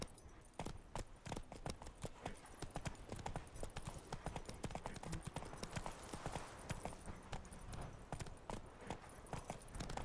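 Roach, a horse in The Witcher 3, clip-clops along at a steady rhythmic trot, hoofbeats clear and continuous over a soft game background with no talk.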